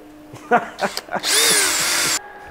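A power tool whirs steadily for about a second while a thread is cut for a moped brake lever bolt, close and loud, just after a few short voiced sounds.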